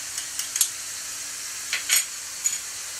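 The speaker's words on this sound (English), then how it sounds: "now, I'm going to add 4 cloves of minced garlic" Minced garlic, four cloves, sizzling and being stirred in a hot pan, a steady soft frying hiss broken by a few brief scraping stir bursts, close and fairly quiet.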